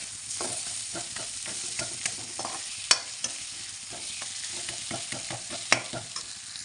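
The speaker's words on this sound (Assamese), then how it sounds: "মাছ ভাজি এয়া হৈছে" Pieces of fish fry in hot oil in a pan while being stirred, a steady close sizzle broken by scraping clicks and two sharp spatter pops.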